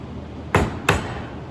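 A chisel driven into wood while chopping a mortise gives two sharp, close knocks about a third of a second apart, each a short percussive thud on a quiet background.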